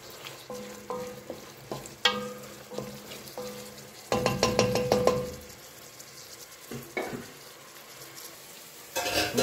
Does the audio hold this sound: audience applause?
no